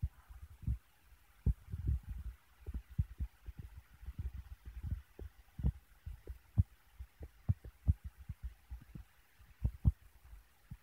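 Soft, repeated low thumps and muffled taps, irregular and close, like a tin being tapped and Grizzly mint long cut tobacco packed down, with no talking.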